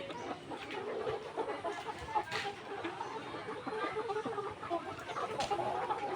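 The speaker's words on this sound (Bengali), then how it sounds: "সুন্দর খাবার খাচ্ছে মুরগিগুলো।" Layer hens about 115 days old clucking in a poultry farm shed as they feed, a continuous dense chorus of many birds with scattered louder clucks throughout.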